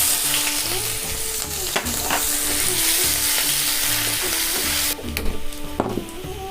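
Chopped onions dropped into hot oil with dried red chillies, bay leaves and cumin seeds for chicken khichdi, a loud continuous sizzle and frying crackle with stirring scrapes and a few clanks of utensils, no voices.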